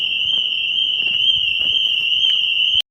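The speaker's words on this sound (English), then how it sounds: "cheap car alarms just going off like crazy" A cheap car alarm blares as a continuous, loud, high-pitched electronic tone, holding steady without a break before cutting off abruptly at the end.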